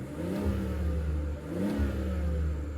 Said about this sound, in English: It's a beautiful 6-cylinder sound, very reminiscent of older BMWs, even though it's not naturally aspirated.